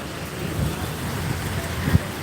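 Heavy rain pours in Belgharia, West Bengal, in a steady, dense hiss that never lets up, with a brief soft knock near the end.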